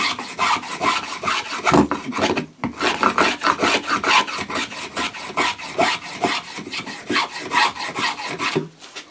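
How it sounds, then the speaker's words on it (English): A metal-bodied spokeshave shaves wood in quick repeated strokes, each pass a short raspy scrape in a steady rhythm, close and clear, with a brief pause partway through. "that feels like a pretty good cut. It's a fairly small shaving."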